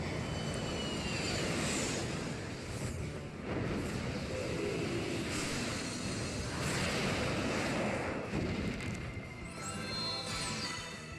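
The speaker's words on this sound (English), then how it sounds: "apparently we have the power to summon a jet fighter to the field" A jet fighter is summoned in the video game Bravely Default, a loud continuous roaring engine rush that sweeps and swells through the whole stretch with crashing surges.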